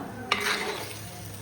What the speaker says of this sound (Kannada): ಚೆನ್ನಾಗಿ ಒಂದು 2 ನಿಮಿಷ ಇದನ್ನು ಮಿಕ್ಸ್ ಮಾಡುವ.